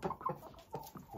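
Purebred Wyandotte hens on a Romanian breeding farm cluck in several short, close, soft bursts over about a second, with no talking.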